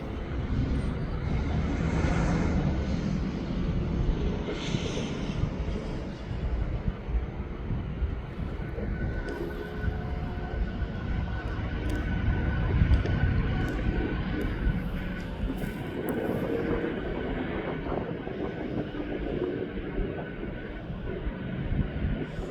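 An aircraft lands at East Midlands Airport with a broad, distant jet roar that swells and fades, mixed with wind buffeting the microphone and a faint voice in the background.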